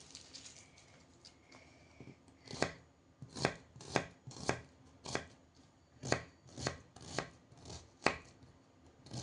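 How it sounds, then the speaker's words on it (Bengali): An onion is chopped with a knife on a board: a run of about a dozen crisp, sharp chops, a few slow at first, then a quicker even rhythm, close and clear with no talk. "একটা পেঁয়াজ কেটে নিই"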